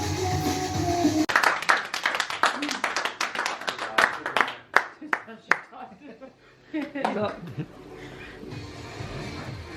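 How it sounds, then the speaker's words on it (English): A few people clap in a room during a casual charity gaming stream, a quick burst of claps followed by scattered hand taps, with people talking over and between them. "It wasn't clapping for you"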